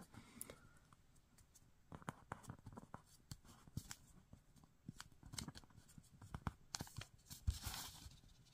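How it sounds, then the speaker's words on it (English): Paper creased and folded for an origami candy dish, a kite-style fold with edges brought to the center; soft, quiet rustles and sharp crinkles in irregular bursts, close up with no talk. "to fold these two edges to the center edge, and we will be almost done"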